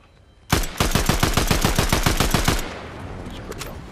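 Rapid automatic gunfire in Fortnite, a fast even burst of about sixteen loud, close shots lasting two seconds, then fading into a faint ambient hiss.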